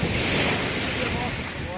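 Ocean surf on a Florida beach, a dense continuous wash of breaking waves mixed with wind buffeting the microphone, loud and unbroken throughout.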